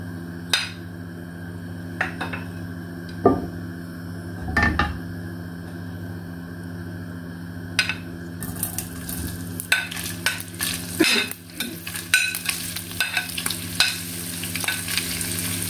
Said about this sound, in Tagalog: Ayan, prito natin guys.